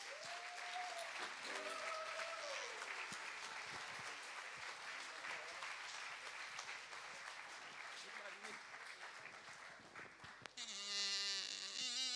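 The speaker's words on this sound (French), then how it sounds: "Merci de l'applaudir" Audience at a live performance applauds a singer, a long continuous wash of clapping at moderate distance, with voices heard over it early on and a higher-pitched voice cutting in near the end.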